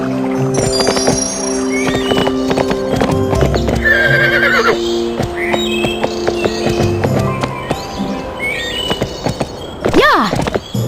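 Hooves clip-clop steadily with several whinnies from a horse in the Barbie Horse Adventures video game on PlayStation 2, over a busy musical background with a short voice at the start.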